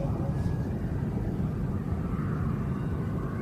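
An aircraft performs an inverted display at an evening air show by the sea, a broad, steady engine roar with deep rumble that holds at a constant loudness, with no voices heard.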